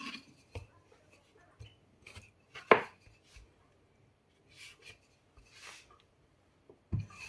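A rolling pin works dough on a floured board, with soft scattered rubbing and knocking sounds, one louder thump and quiet gaps between strokes.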